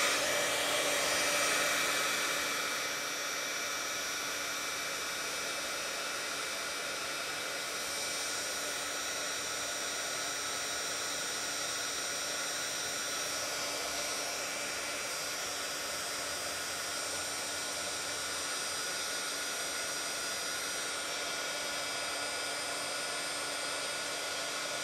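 A heat gun or hair dryer blows steadily on a Powerbeats wireless headphone part, a continuous airy whir that runs unchanged for the whole stretch, fairly close and with no talking.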